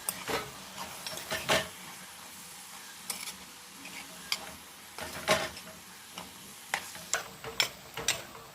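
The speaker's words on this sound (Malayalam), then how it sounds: "ഇതൊന്ന് ഇളക്കിയിടാം." Ivy gourd peera is stirred in a clay pot, giving a string of soft, irregular scraping ticks and clicks with a faint sizzle beneath, close and fairly quiet.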